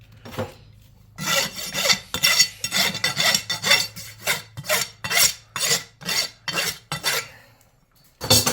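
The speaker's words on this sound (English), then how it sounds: "Put a little buffing, little sand block on there" Rhythmic rasping strokes of a sanding block on a horseshoe, about a dozen back-and-forth passes, close and fairly loud with brief gaps between them.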